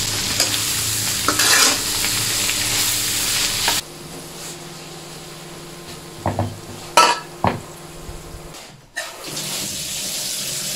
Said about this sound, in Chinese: 我们把料熬香了，再熬啊，就要糊了。